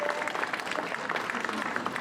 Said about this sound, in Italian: fate un applauso a Valle d'Olmo